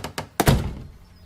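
A door closes with a dull thud in a dramatized audiobook scene: two light taps, then a heavier wooden thump that decays quickly into quiet.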